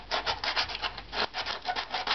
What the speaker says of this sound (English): sanding in a tight area.